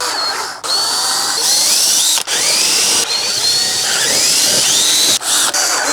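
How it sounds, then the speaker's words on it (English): A power drill bores holes one by one in a front splitter for a 2022+ Hyundai Elantra N, whirring loudly and steadily, briefly stopping and restarting several times, close by with no talking. "all I gotta do is get your drill bit and work your way through 1 by 1"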